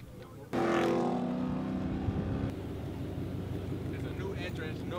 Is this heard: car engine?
yes